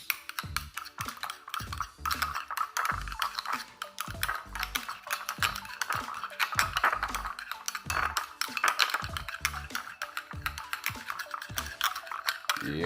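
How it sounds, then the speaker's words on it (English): A spoon stirs a creamy seasoning sauce in a bowl for a Jamaican-style wrap, making continuous close scraping and clinking against the bowl in a quick, steady rhythm. "I'm gonna go in with a spoon now and give this a thorough mix"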